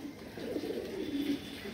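A pair of Giribaz high-flyer pigeons of a Navy line coo softly and steadily, low rolling murmurs close by in a quiet setting.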